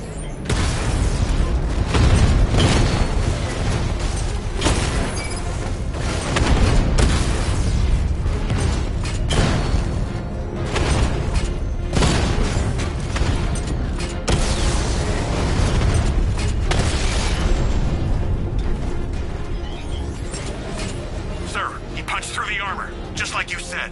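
The Batmobile's 60mm cannon in Batman Arkham Knight fires repeatedly against heavily armored units, a steady string of loud booming shots and impacts with mechanical clatter, under near-constant radio voices.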